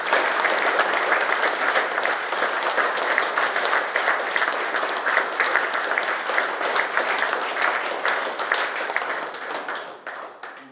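Dense, sustained applause from a fan forum audience, steady and close for about ten seconds before tapering off at the end.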